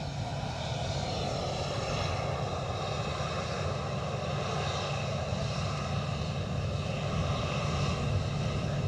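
An EasyJet airliner inbound from Madrid arrives at Edinburgh Airport, producing a steady, continuous engine roar that holds at an even level throughout at moderate distance, with no talk.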